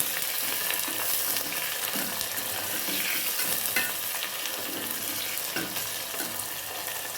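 Sliced onions fry in a hot pan under a continuous loud sizzle, while a spoon stirs and scrapes them with scattered clicks up close, without talk.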